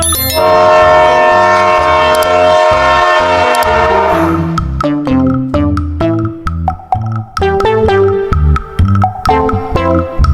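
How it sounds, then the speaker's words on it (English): A loud, sustained train whistle blows for several seconds, followed by shorter repeated whistle blasts over the rumble of a moving train. "The train whistle sounds like this."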